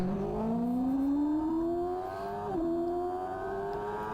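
Heavyweight superbike engine at a CCS race in Roebling, its tone rising steadily as revs climb, with a brief dip and recovery, loud and close with no talk.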